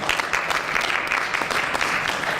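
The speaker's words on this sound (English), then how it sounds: "Eric, you're getting applause down here from the judges" Judges at a college elevator pitch competition applaud a contestant. The clapping is steady, dense and continuous at moderate volume, with no voices.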